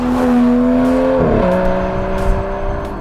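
Loud, close Aston Martin DB engine note, a steady drone that drops in pitch as it shifts, then settles into a lower hum with small bumps, nothing else over it.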